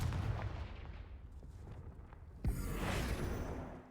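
Deep rumbling blast from a Bombarda or Confringo spell in Hogwarts Legacy, with low booming debris early on and then a sharp explosive crack that fades into a rolling roar, all fairly quiet overall.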